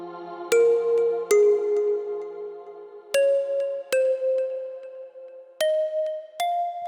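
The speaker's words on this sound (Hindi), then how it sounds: "सुनील को देखूं फोन करके।" A phone rings with a melodic tone, a handful of bright chiming notes repeating at a steady pace, clear and alone.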